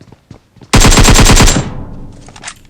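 Rapid burst of automatic gunfire in a mobile battle royale shooter, about a dozen loud close shots in quick succession followed by a fading echo.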